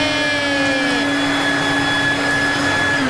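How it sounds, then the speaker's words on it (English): A vacuum cleaner runs with a continuous loud whine and steady airflow roar close by while sucking up leaves at a campsite. "He's been like bending down trying to suck leaves from there."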